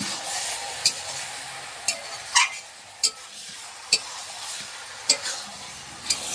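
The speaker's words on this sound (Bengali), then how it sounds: "আমরা কিছুক্ষণ এভাবে নেড়ে চেড়ে তরকারিটা ভালো করে কষিয়ে নেব" Chicken curry with premixed spices is stirred and fried down in a pan, producing a steady low sizzle broken by sharp scraping clicks of the spoon against the pan, roughly one every second.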